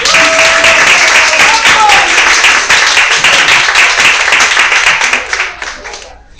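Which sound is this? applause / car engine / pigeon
applause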